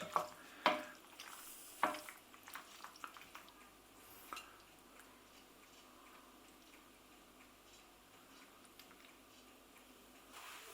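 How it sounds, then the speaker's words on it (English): Cooked pasta being stirred through a fat-free microwave tomato sauce with basil and garlic, giving a few sharp utensil clinks and taps against the dish early on, then a quiet, faint background with sparse soft ticks. "I'm stirring it well until all the pasta is coated."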